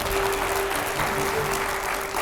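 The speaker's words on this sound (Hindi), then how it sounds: "जोरदार तालियां हो जाएं इस पर" A crowd claps steadily and loudly throughout, dense applause with no pauses.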